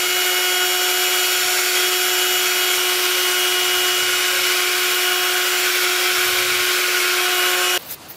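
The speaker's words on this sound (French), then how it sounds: "avant d'utiliser la peinture, bien évidemment, on la mélange soigneusement avec un mélangeur mécanique" A mechanical mixer stirs paint before wooden shutters are repainted, a steady close motor whine with a constant droning pitch that runs unbroken for about eight seconds and then cuts off abruptly.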